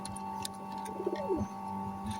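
Kept pigeons coo softly in a low, rolling call, with faint background hum and scattered small knocks.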